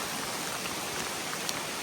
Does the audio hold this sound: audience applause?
no